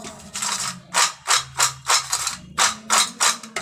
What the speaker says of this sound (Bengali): আর কতটা যে মুচমুচে হয়েছে আপনারা আওয়াজ শুনে বুঝতেই পারছেন।